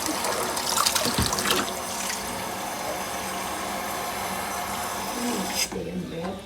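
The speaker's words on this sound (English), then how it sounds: "I fill up the beans with hot water" Hot water runs from a tap into canning jars packed with green beans, a continuous loud gushing stream that stops abruptly near the end, leaving a quieter clatter.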